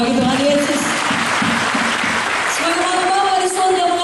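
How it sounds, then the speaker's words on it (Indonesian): Congregation applause at an evangelistic church gathering in Makassar, loud continuous clapping from many people with sustained voices or tonal sound running underneath throughout. "berikan tepuk tangan bagi Tuhan Yesus"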